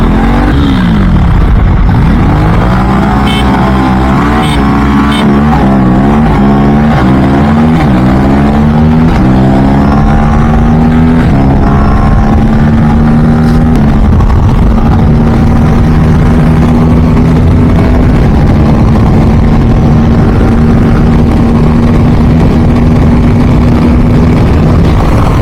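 A sport motorcycle engine, an Aprilia RS4 single or twin, sits close and loud, rising and falling through revs before it settles into a steady idle, with no voices.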